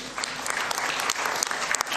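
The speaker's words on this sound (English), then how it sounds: "Can we clap hands for that resolution?" Delegates at the CAF 46th Ordinary General Assembly applaud an adopted resolution, with a steady wash of many hands clapping at moderate loudness throughout, a few sharper claps standing out.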